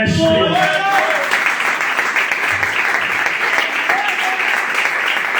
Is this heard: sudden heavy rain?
no